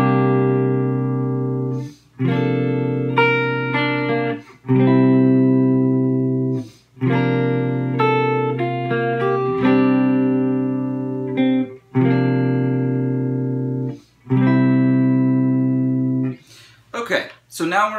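Clean electric guitar strumming the chord progression of a song, a series of ringing chords separated by short breaks, loud and close, with a few scratchy muted strums near the end.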